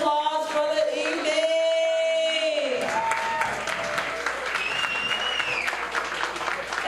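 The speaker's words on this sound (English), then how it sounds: "let's stand and give all of our candidates a big round of applause for the evening." An audience at a Candidates' Night forum applauds the candidates, with steady, dense clapping that fills the room and continues to the end. A voice is heard over the clapping during the first few seconds.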